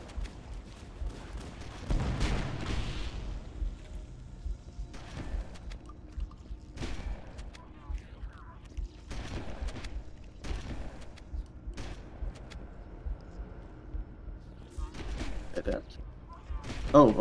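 Gunfire from the Halo: Combat Evolved video game, a string of sharp shots and booming impacts spread across the stretch, mixed with game noise while people talk over it.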